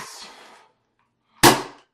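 Mauserfire toy blaster firing a Pak-D dart: a soft rustle of handling, a pause, then one sharp, loud, close snap that fades quickly.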